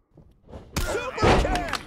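A sharp impact thuds after a quiet lead-in, followed by crowd-like noise and a game commentator talking over it during a WWE 2K24 wrestling match.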